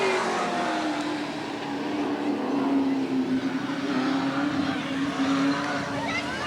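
Several race cars circle Eugene Speedway in 1990, engines droning loud and steady with a rising and falling whine as they pass, an announcer's commentary running over the din.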